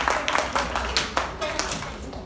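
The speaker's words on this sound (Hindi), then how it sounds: "तो वंस अगेन एक बार जोरदार तालियां होनी चाहिए श्री पीके मस्त जी के" Clapping rings out from the audience at a comedy laughter show for PK Mast, a series of sharp, fairly close claps that thin toward the end and never swell into full applause.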